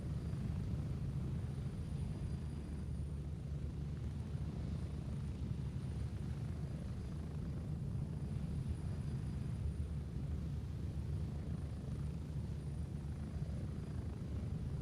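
Helicopter lifting off in the military shooter Gray Zone Warfare, a steady low rotor and engine rumble droning evenly throughout with a faint high whine on top.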